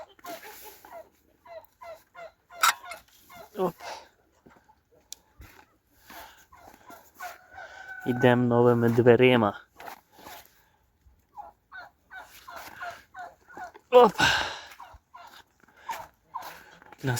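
Geese on a farm at night give sparse cackles and a louder burst of harsh honking in the middle, close by against a quiet background, with someone speaking briefly and scattered footsteps and bumps.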